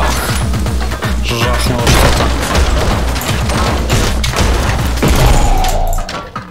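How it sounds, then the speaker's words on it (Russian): Explosions and crashing impacts from the video game Anger Foot pile up in a dense, loud barrage of booms and thuds, running continuously with talk mixed underneath. "просто все взрывается"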